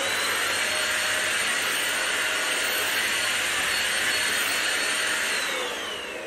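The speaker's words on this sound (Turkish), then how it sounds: "Bu da bizim süpürgenin sesi arkadaşlar." A household vacuum cleaner runs continuously at home, a loud, steady whooshing roar with a faint high whine, holding even throughout before easing slightly at the end.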